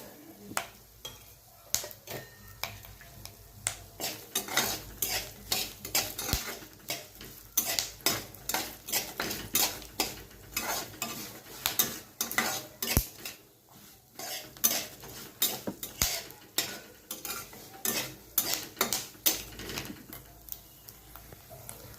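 Poppy seeds being stirred and roasted with peanuts in a pan for Hyderabadi baingan masala, with sharp, irregular clinks and scrapes of a spoon against the metal pan repeating throughout, close and clear.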